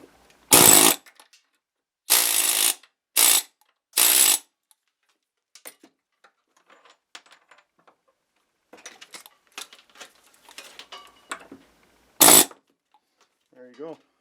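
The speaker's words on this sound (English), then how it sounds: "Just use an air chisel if you have one," An air chisel splits a seized nut in a workshop, giving several loud, short hammering bursts with quiet gaps and small metallic clinks between them, and a final burst near the end.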